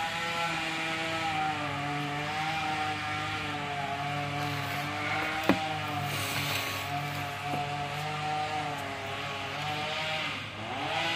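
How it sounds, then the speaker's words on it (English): A chainsaw cutting down a tree nearby, a steady droning whine that holds its pitch with slight wavers throughout, fairly loud and constant, with a faint click partway through. "Someone's sawing down a tree all of a sudden."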